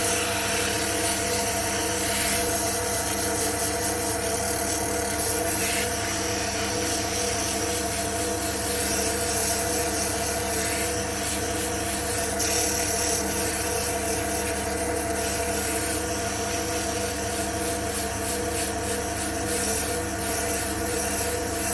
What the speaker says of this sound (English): just give this part a sand